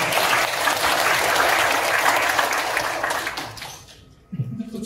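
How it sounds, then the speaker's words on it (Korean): A lecture audience breaks into loud, sustained applause from many people, which fades away toward the end; a voice starts speaking right after it dies down. "박수 한번 주세요"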